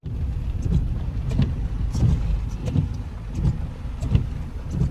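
A car driving along a road and pulling into parking on arrival, with a steady low engine and road rumble and some wind buffeting throughout; no voices.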